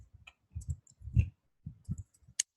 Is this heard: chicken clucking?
no